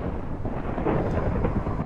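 A lightning strike in a video game brings a deep, rolling rumble of thunder that fills a short burst, loud and dense, with no voices.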